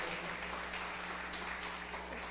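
A church congregation at a spiritual battle seminar applauds steadily, a dense, even wash of clapping from many hands in a large room, sustained throughout without clear breaks.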